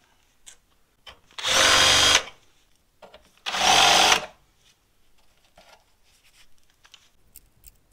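Two short bursts from a power drill boring out a hole to 5 mm during teardown of a Type R EP3 front end, each about a second long and loud against near silence, with faint handling clicks between.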